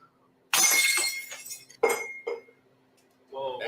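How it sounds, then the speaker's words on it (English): A thrown glass object shatters on a hard floor, a sudden loud crash with bright tinkling fragments, then a second sharp smash and scattered clinks, close by, with voices reacting briefly at the end. "All I heard was glass shattering in the back"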